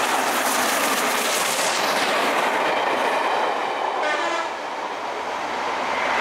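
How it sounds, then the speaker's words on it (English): Steam locomotive 60163 Tornado hauling the Royal Train on a run to York: a loud, continuous roar of passing locomotive and carriages with rail clatter and a whistle-like tone, heard alone without speech. "Tornado returned to York with the Royal Train in tow"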